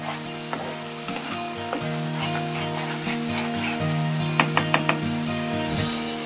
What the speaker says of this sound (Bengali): এবারে আমি মাঝারি আছে এটাকে সতে করতে থাকবো, সাঁতলে নেব।